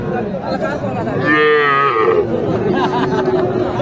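A young bull gives a long, loud moo close by at a cattle market in Naogaon, with a noisy crowd murmuring and chattering in the background.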